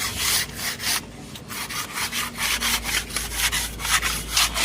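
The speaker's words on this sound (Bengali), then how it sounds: "কত সুন্দরভাবে ঘষছে দেখা যাচ্ছে আমাদের দেয়ালটাকে" A plastered wall is rubbed smooth by hand outdoors on a construction site, giving a loud, close, rhythmic rasping of regular strokes that continues steadily throughout.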